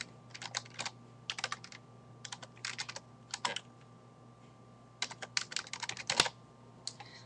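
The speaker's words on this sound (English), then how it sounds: "and I'm going to type something" Fast bursts of clicky computer keystrokes come in short, uneven runs with brief pauses between them, close and moderately quiet with no talking.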